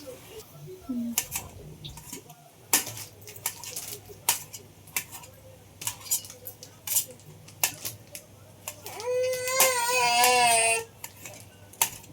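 A knife cuts tomatoes on a board in a home kitchen, with steady, uneven taps and chops close by. A brief wailing cry rises in the background partway through.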